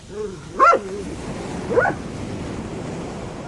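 A dog barks twice by the sea in a radio drama, two short separated bursts at moderate distance over steady surf and wind.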